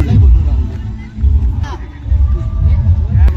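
Crowd hubbub at the Navratri festival in Harsul, a loud, close, rumbling babble of many voices with low-pitched noise swelling and easing in waves.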